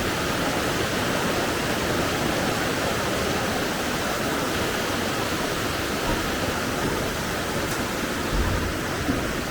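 Rushing river water on the Lost Waterfalls trail near Boquete, Panama, a loud, steady, close roar of churning whitewater that fills the whole stretch without pause or voices.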